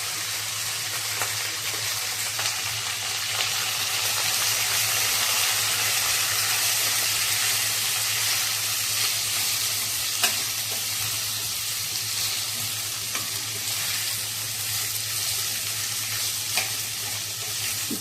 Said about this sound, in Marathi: आता हे आपण सगळं छान भाजून घेणार आहोत.